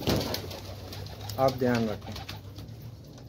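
Pigeons cooing close by in a loft, a few soft throaty coos rising over a low room hum, with someone speaking briefly at the start.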